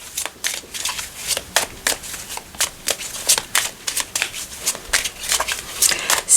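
Oracle cards shuffled for a tarot-style reading, a steady run of crisp riffling snaps and slaps repeating about twice a second, close and clear with no voices.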